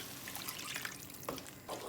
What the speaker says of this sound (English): Then I'm going to add the water.